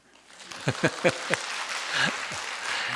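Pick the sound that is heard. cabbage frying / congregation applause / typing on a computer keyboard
congregation applause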